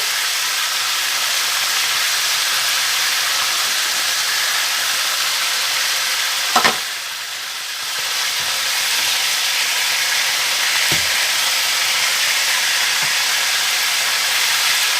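Salted fish (makayabu) frying in a pan gives a steady, loud hiss throughout, with a sharp click near the middle and a brief dip before the sizzle resumes. No one speaks.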